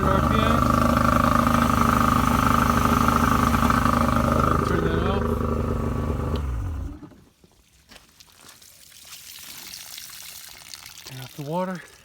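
A 2006 Yamaha 70TLR two-stroke outboard engine runs loud and steady at 1500 RPM, then cuts out about halfway through, leaving near-quiet with faint background noise.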